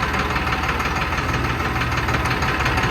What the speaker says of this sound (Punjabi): ਅਜੇ ਤੱਕ ਤੇ ਮੈਂ ਟਰੈਕਟਰ ਤੇ ਆ